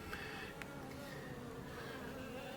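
Honey bees drifting about in front of a hive over a jar feeder of honey, a faint continuous buzzing hum with a few passing bees buzzing closer.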